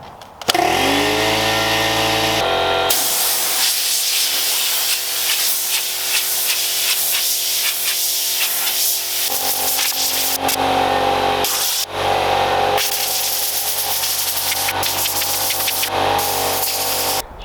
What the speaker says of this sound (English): fire up the air compressor and blow dry off as much of this as I can